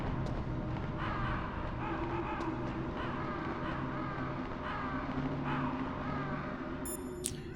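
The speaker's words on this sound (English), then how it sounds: "We hear crows." Crows in the Metal Gear Solid video game caw repeatedly over a steady ambient background, their harsh calls spaced irregularly throughout and moderately loud.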